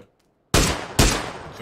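Two sharp, loud gunshots ring out in quick succession in a PUBG match, each with a short decaying tail, after a near-silent lead-in.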